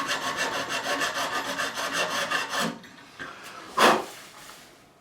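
Rhythmic rasping of a file tidying the nut slots on a Harley Benton RB-600 Rickenbacker-replica bass, steady back-and-forth strokes for a few seconds, then a pause and one short louder scrape, close and alone.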